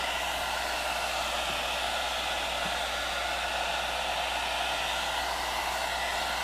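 A hair dryer on its cool setting blows air over neoprene, a steady, even, close whoosh that holds unbroken from start to finish with no voices.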